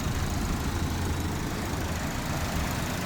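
A 2023 Mini Cooper Countryman's engine idles at a steady low hum, even and unbroken, with broadband noise throughout and no voices over it.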